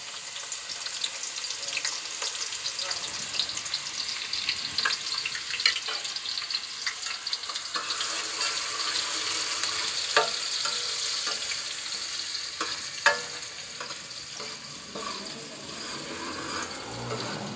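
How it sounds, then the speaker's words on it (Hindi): Two medium onions, sliced, frying in hot oil with a steady, bright sizzle that continues throughout, occasional stirring clicks and a sharp knock near the end; no speech. "ऑयल गरम होते ही इसमें हम प्याज डालेंगे, जो कि मैंने 2 अदद दरमियानी प्याज ली हैं और उनको स्लाइस में काट लिया है।"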